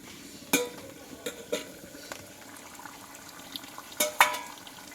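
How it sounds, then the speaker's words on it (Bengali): Mutton curry in a pot is turned with a metal spatula, producing sparse scraping and clanking strokes, a few sharper knocks, over a faint background simmer with no talking. "এবার খুন্তি দিয়ে আমি এভাবে একটু নাড়াচাড়া করে নেবো"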